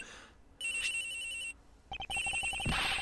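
A cell phone ringing inside a locker in a video game, an electronic ringtone in repeated tonal bursts with a short pause between rings, fairly quiet and without speech.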